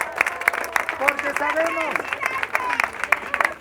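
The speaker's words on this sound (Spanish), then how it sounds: "Un aplauso para ustedes mismos." Audience applause, fairly quiet, runs under a speaker's voice, with individual claps standing out against a murmuring crowd.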